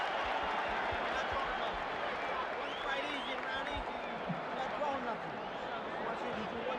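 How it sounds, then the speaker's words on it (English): An arena crowd at a Mike Tyson vs Larry Holmes boxing match roars steadily between rounds, a loud continuous wash of cheering and clapping with a commentator talking over it. "The crowd is really juiced up."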